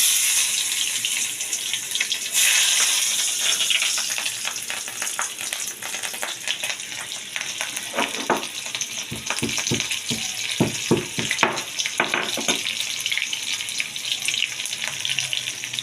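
A tempering of crushed garlic, nigella seeds and green chilli sizzles in hot oil, a steady hiss with a burst of crackling pops near the middle and end, no voices.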